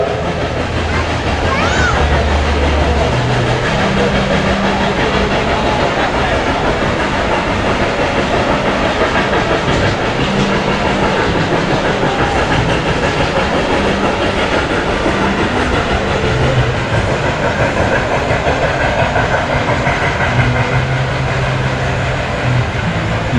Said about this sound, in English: You can see the train runs above Wildwood Grove.